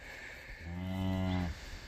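A mother cow on a farm, beside her newly weighed calf, lets out a single long, loud moo, a drawn-out low call lasting about a second with nobody speaking.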